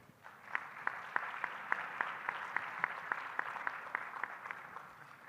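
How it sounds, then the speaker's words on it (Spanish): An audience at a Mexican nearshoring summit applauds steadily for about five seconds, with many hands clapping together in a dense, even patter and a few sharper claps standing out. "Un aplauso, por favor"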